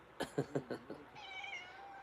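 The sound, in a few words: cat meowing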